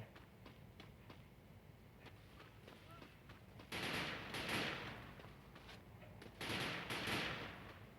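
Gunfire in a Garena online shooter game: two bursts of rapid automatic fire, each lasting about a second, crack out over faint background game noise, fairly loud against a quiet bed.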